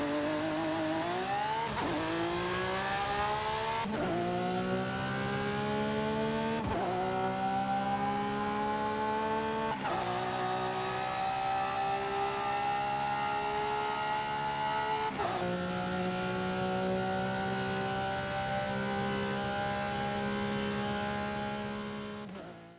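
A Lamborghini V12 engine in the video game Forza Horizon 5 revs up repeatedly across several cars, each pass a rising, loud, close wail with gear-shift breaks between them.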